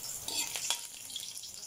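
Garlic and onion fry in a pan with a steady hiss, a few sharper scrapes and clinks of stirring near the start, then a continuous close sizzle to the end.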